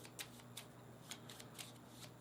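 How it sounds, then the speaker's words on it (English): A deck of board-game task cards is shuffled quietly at close range, with soft repeated riffling flicks and card snaps over a faint steady hum. "Shuffle the Season 3 task cards."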